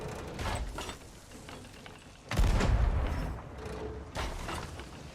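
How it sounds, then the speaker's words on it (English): Ship cannons fire in the video game Sea of Thieves. Muffled blasts and mechanical clatter build to one heavy, loud boom midway, then rumble on, with another thud near the end. "why waste time in a fair fight when you have a cannon?"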